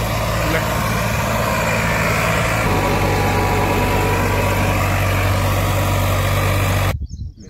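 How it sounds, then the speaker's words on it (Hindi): A Farmtrac 60 tractor runs with a rotavator attached, its engine producing a steady, loud, low droning hum close by, with a slight shift in tone partway through before the sound cuts off. "भाई ट्रैक्टर का परफॉर्मेंस देख सकते हो, एक टायर पर किस तरह ये घूम रहा है, रोटेट कर रहा है गाइस।"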